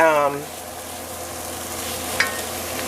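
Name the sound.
butternut squash curry soup ingredients sizzling in a pot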